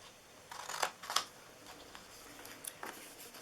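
Scissors snip through paper while a Christmas gift box is cut out, giving a few quiet, crisp cuts in quick succession, close by in an otherwise still room.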